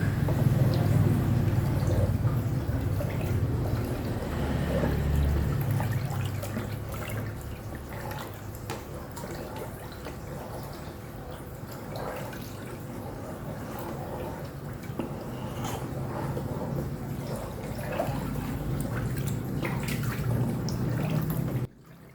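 Water is stirred by hand in a container used for soaking a turtle, giving soft, continuous sloshing and dripping nearby for about twenty seconds.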